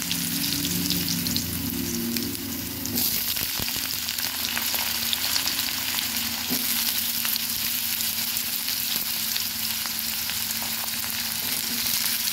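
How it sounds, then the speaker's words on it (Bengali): Potato pieces hitting hot oil already crackling with nigella seeds, a loud continuous sizzle that swells as they go in and keeps frying steadily, with an occasional stir, close up and without talk. "আলুগুলো ভেজে নেব।"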